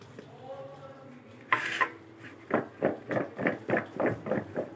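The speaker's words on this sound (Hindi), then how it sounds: "इसको अच्छी तरह मिक्स करेंगे। बाकी का भी शामिल कर देंगे।" Potato sticks being mixed with cornflour in a bowl, a brief scrape followed by a run of rhythmic, close tossing and clattering strokes against the bowl.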